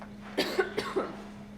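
A single person coughs several times in quick succession, short sharp bursts close by, with a faint steady hum in the background.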